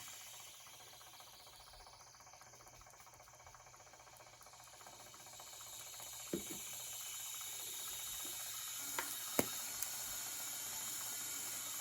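A cup turner slowly spins a glitter marble tumbler, giving off a faint, steady mechanical hum with a soft ticking undertone and a few sharp clicks near the end.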